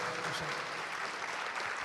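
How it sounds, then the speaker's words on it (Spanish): Faint, distant applause in a hall after a professor reaches a milestone, continuous soft clapping throughout. "un aplauso muy fuerte"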